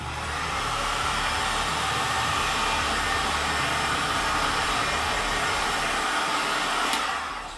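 Heat gun blowing hot air onto a foam shin guard, a steady close whooshing roar with an even fan hum lasting throughout, no voices.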